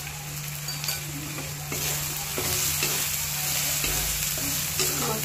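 Spices such as coriander powder and turmeric frying in a pan for shev bhaji, a continuous sizzle with repeated scraping stirs of a spoon against the pan, steady and close with no talk.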